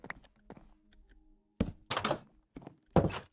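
A spruce door is placed in a video game, making several short, hollow wooden thunks close up, the louder ones clustered in the second half, with no voices.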